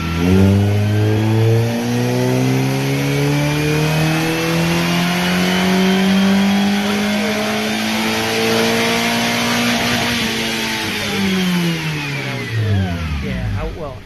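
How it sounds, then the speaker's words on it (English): Small race car engine running a dyno pull, revving loud and close in a long rising sweep up through the gears before dropping off, continuous and alone. "Here's their little car making all the power."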